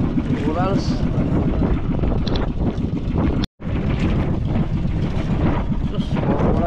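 Strong wind buffets the microphone outdoors by the sea, a dense, continuous roar with brief gusting swells and a momentary dropout midway, while voices talk faintly beneath the noise.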